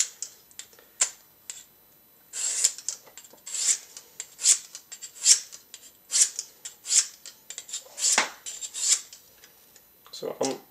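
A kitchen knife is drawn across a coarse sharpening stone, giving repeated rasping strokes at a steady rhythm with brief pauses between them, close and fairly clear.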